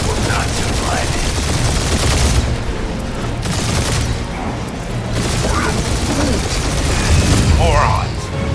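A heavy gunfire barrage in Marvel's Guardians of the Galaxy, a loud, continuous wall of rapid shots and booms that keeps going with brief dips in intensity, with shouted voices over the din.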